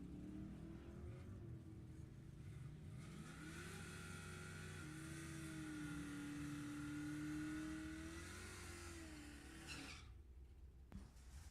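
Drag race cars, including a 2002 Camaro, launching side by side at a Sacramento Raceway bracket race, engines roaring loud and steady for about ten seconds with a rising and falling tone, then cutting off abruptly.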